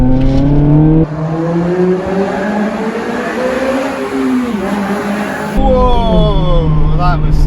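A Honda CR-Z fitted with a Japspeed single exit exhaust accelerates hard in second gear, giving a loud, raspy engine note that climbs steeply, drops briefly on a shift and then revs up again, heard from inside the car.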